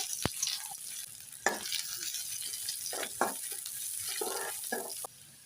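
Sliced onions frying in oil in a pan give a steady sizzle, broken by several sharp clatters and scrapes of stirring, with no voices.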